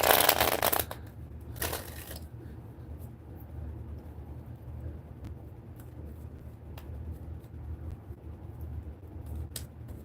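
Tarot cards being shuffled by hand, a loud burst of riffling at the start and another near two seconds, followed by quieter handling over a low steady background hum.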